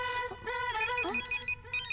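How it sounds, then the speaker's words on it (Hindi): A mobile phone ringtone plays a bright, repeating electronic melody of short chiming notes, heard clearly and alone for a couple of seconds. "मेरा फोन बज रहा है"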